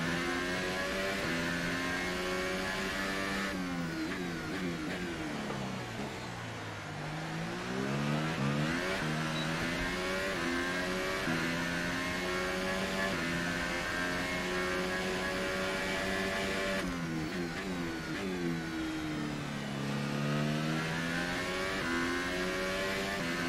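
A McLaren Formula 1 car in F1 2018 at the Bahrain Grand Prix, engine revving loud and steady with rising and falling pitch as it shifts through gears, continuous throughout with no talk.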